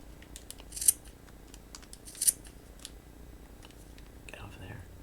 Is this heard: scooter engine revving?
no